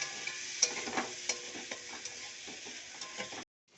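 Cauliflower florets tossed into a pan of fried spices with tomato, turmeric and salt, hissing with a steady close sizzle while a spatula scrapes and stirs in irregular strokes, ending abruptly.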